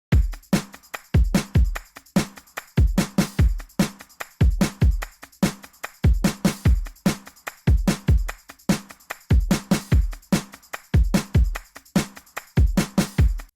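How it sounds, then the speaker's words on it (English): A tambourine track playing steady sixteenth notes inside a pop song mix, its bright regular jingles driving over punchy beats at an even, continuous groove. "added in that tambourine track to really drive the groove and the momentum of the chorus forward"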